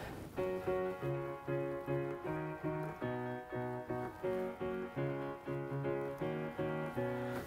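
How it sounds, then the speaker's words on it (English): A grand piano preset on a software instrument's Easy Keys layer plays repeated chords in an even, steady rhythm, bright and sustained, heard alone without voices. "which is just on the grand piano setting"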